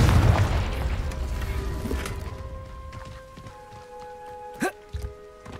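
A Confringo blasting spell explodes in the video game Hogwarts Legacy: a loud boom at the start decays into a ringing shimmer of tones, followed by a few brief sharp pops near the end.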